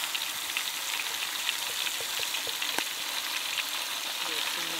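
Ginger garlic paste sizzles hard in a black kadai beside three whole chickens, a dense, steady frying hiss with faint ticks and scrapes of stirring.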